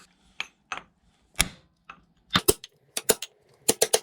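A small chisel whacks the bent locking tab on a Triumph motorcycle's front sprocket nut: sharp metallic strikes, first spaced singly, then quick pairs of loud close taps toward the end.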